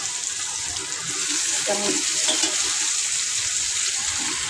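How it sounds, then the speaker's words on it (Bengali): Steady hiss and sizzle of Malabar spinach (pui shak) frying in a pan, with light stirring clinks and no talk. "ভাজা হয়ে যেতে প্রায়, এখন দিয়ে দিব শাকটা"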